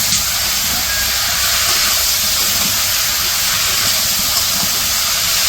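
Vegetables sizzle loudly while being sautéed with spices for a village-style curry, giving a close, unbroken hiss with no pauses and no talking.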